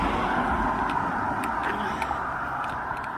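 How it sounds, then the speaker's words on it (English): A car on a road beside a woodland hiking trail on the Appalachian Trail, a steady broad rush of tyres and engine passing at moderate distance with light clicks and rustles over it. "Stop right here and wait for that car to pass."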